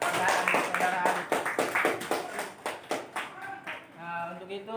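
A classroom applauds student Alif with a short burst of rhythmic hand clapping, close and fairly loud, while voices talk over it as the clapping fades.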